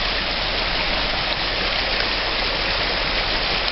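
A mountain creek rushes steadily with snowmelt, a dense even hiss of flowing water close by with no other sounds.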